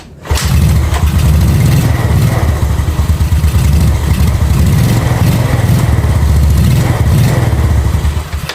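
A Yamaha Nuvo scooter engine is started and then runs steadily with a loud, close, throbbing idle. It starts abruptly and keeps a constant rumble throughout, with no talking.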